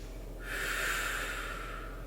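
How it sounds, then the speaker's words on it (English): A woman breathes out audibly during a floor stretch in a cool-down workout, one long, forceful, close exhale through the nose that fills the short span alone. "Breathing through it."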